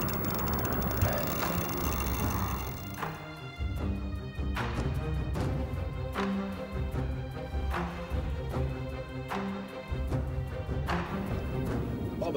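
A fishing reel's drag clicks in a continuous fast ratchet as a carp takes line at a gravel pit, loud and close, in uneven surges over background noise.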